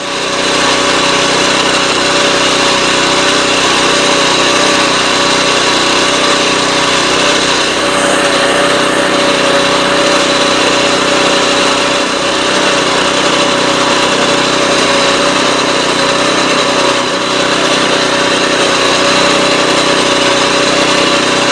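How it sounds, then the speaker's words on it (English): A lawn mower cutting grass during spring lawn preparation runs as one loud, steady engine drone that holds for the whole stretch with no talking over it. "obviously I'm going to go ahead and mow this"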